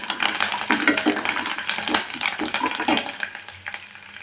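Ivy gourd (totakora) fry with curry leaves being stirred in a pan, a steady sizzle with scraping strokes of a spatula and occasional clinks against the metal, close and continuous with no talking.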